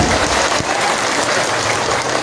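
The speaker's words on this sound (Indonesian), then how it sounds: "Hati nurani, tepuk tangan." An audience claps loudly at a religious gathering, a thick, continuous patter of many hands close and full throughout.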